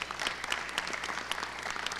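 An audience applauds event sponsors with soft, moderately sized clapping, individual claps audible within a steady patter heard from some distance.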